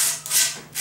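Skateboard grip tape edge being rubbed down with a scrap sheet of grip tape, a close, loud scraping swish in two quick strokes.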